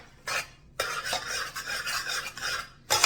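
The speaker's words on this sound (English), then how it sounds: "All right, so I got that egg stirred in." A spoon stirs egg into a baked macaroni mixture in a bowl, a close scraping and sloshing sound in several continuous strokes separated by brief pauses.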